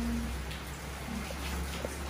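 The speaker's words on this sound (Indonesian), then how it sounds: "Alhamdulillah. Hujan." Rain falls steadily outdoors, heard as a dense, even hiss with scattered droplet taps, constant and moderately loud throughout.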